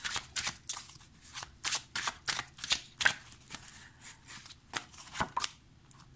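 Tarot cards are handled and laid out close by in quick, papery flicks and slaps, a brisk irregular run of short bursts at a quiet level.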